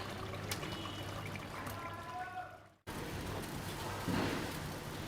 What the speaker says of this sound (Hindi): फिर ये दूसरी तरफ पानी डाल,